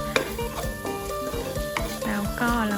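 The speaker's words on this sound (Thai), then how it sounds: "แล้วก็คั่วไปเรื่อยจ้าให้กะทิคลุกคลิกแค่นี้นะคะ" Curry paste stir-fried with coconut milk in a pan for pumpkin curry, a busy sizzle under repeated rhythmic scrapes and knocks of the spatula, close and clear.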